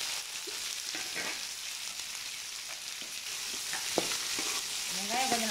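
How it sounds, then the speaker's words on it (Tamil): Onions sizzle in hot oil with popped mustard seeds and lentils, a steady close frying hiss broken by scraping stirs and the clatter of a spoon, with no talk. "இப்போ நம்ம வந்து வெங்காயத்தை எடுத்து போட்டுக்கலாம்."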